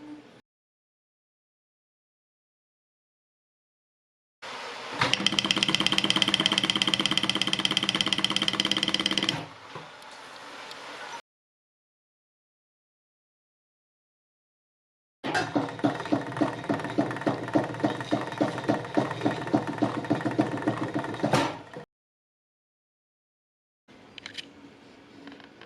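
A Consew 1206 RB industrial sewing machine slowed by a homemade speed reducer runs in two bursts of several seconds each, a close, rapid mechanical clatter with brief pauses and a short final start.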